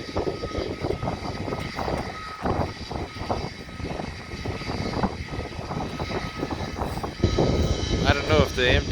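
Jet aircraft engine spooling up at an airport, heard from a distance as a rumbling drone that swells louder near the end, with a brief voice at the close.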